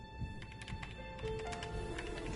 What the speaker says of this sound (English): Bro's like typing it in.